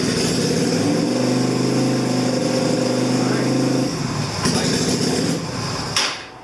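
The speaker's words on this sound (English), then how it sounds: "Right. Bike starts." A Yamaha Virago 250 (XV250) bobber motorcycle engine runs on choke with a steady, low, throbbing idle for several seconds, then its tone shifts and drops off; talk is present throughout.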